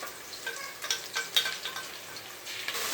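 A small amount of ginger garlic paste sizzles softly in a pan, a quiet crackling fry with brief louder spurts as it is stirred, for a few seconds.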